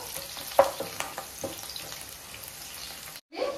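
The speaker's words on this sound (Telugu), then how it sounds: "పచ్చిమిర్చి, ఆనియన్స్, కాజు ఫ్రై అవుతా ఉన్నాయి కదా" Green chillies, onions and cashews frying in a pan for a curry leaf chicken fry, giving a steady close sizzle with brief stirring scrapes and clinks, and a short silent gap near the end.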